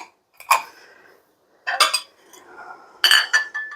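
China salad and dessert bowls clink against each other and a tabletop in three separate bursts of bright, ringing knocks, close and fairly loud, with quiet pauses between, while an Easter kitchen table is set.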